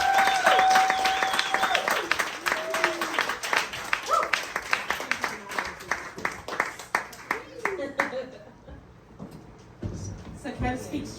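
An audience at an intimate Sofar Sounds concert in Fort Myers applauds after a performance, a dense burst of clapping that gradually thins into scattered claps, with cheering and voices mixed in near the end.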